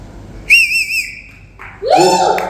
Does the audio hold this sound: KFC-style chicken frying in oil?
no